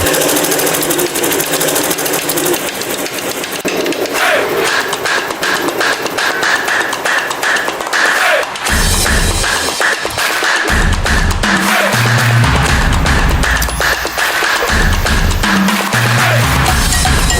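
Several industrial embroidery machines stitch shirts together in sync, producing a loud, continuous mechanical chatter with rapid needle beats and heavier thumping pulses in the second half.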